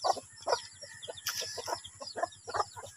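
Hungry three-day-old chicks peep in quick, repeated bursts, a busy, fairly close chorus of high chirps with short gaps between calls.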